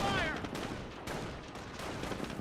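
In the Company of Heroes game, a short-barrel Panzer IV tank fires on a Greyhound armoured car: a sharp cannon blast followed by a rattle of repeated gunfire, with a voice commentating over the combat.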